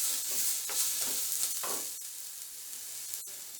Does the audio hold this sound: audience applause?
no